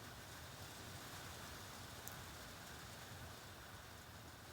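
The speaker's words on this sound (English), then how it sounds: "And the rain's picking up." Steady rain falls as an even, continuous hiss, fairly faint and unbroken, with no voices over it.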